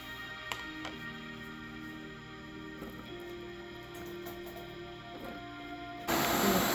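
A food processor blends onion, ginger and garlic, giving a steady mechanical whir with harmonic hum and a few light knocks, then a louder, brighter surge near the end.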